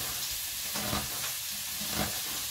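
Chicken meat fries in a pan with a soft, continuous sizzle and hiss, fairly quiet and steady, with a few faint stirring movements.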